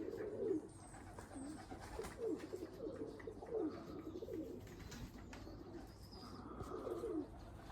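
Budapest pigeons coo softly in repeated low, throaty rolls, several calls spaced a second or two apart, with faint chirps of other birds in the background.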